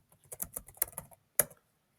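Keys tapped on a computer keyboard in a quick irregular burst of clicks, then a pause and a final sharp keystroke, close and fairly quiet.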